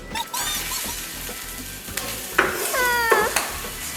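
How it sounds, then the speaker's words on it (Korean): Onions and garlic sizzle gently in a pan while a utensil stirs and taps against it, with a few brief tonal sounds near the end. "양파와 마늘을 넣고 부드러워질 때까지 약 5분간 조리하고요"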